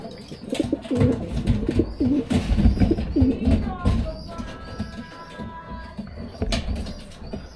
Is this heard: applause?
no